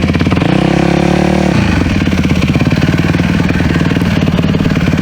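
A motocross bike engine in the racing game Ride 5 holds a loud, buzzing drone, then its pitch drops and settles into a steady, rough rev with no talk.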